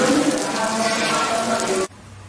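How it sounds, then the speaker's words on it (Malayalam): Heavy rain pours down at night in Sterling Valley, Kodaikanal, a dense loud steady hiss that cuts off abruptly near the end, leaving quiet. "നല്ല മഴ പെയ്യുന്നുണ്ട്"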